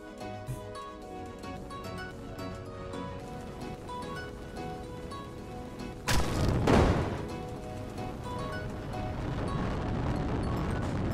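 Rocket launch from an M270 MLRS truck in the Brick Rigs video game: one sudden loud blast roughly midway, trailing into a rushing roar and then a sustained noisy wash, after a quieter stretch of game background.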